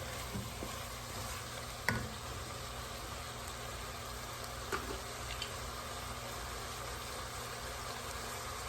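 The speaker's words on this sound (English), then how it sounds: "we're gonna mix this, and we're gonna let all the vegetables absorb all those amazing spices we just put" Vegetables and spices mixed in a hot pan for arroz con pollo, a low steady sizzle under a faint background hum, with a few soft utensil knocks, one sharper scrape near two seconds, and no talking.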